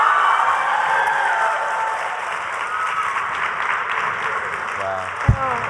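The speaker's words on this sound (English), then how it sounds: "you could keep clapping" Applause from a keynote audience welcoming a special guest, a steady wash of many hands clapping that carries through the whole stretch, ending with a brief loud thump near the close.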